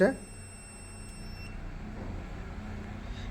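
A smart digital multimeter in auto mode gives a thin, steady high-pitched continuity beep lasting about a second and a half, fairly quiet over low background hum before it stops.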